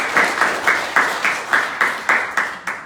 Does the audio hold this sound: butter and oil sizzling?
no